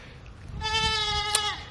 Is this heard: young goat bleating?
yes